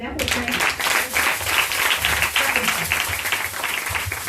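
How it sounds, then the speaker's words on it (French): A church congregation applauds and cheers during a French-language sermon, a steady, dense wash of clapping and voices that carries on for several seconds. "Acclame encore."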